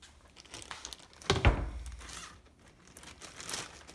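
A plastic bag holding honey crinkles and rustles close up, with one louder crumpling burst in the middle among softer handling sounds.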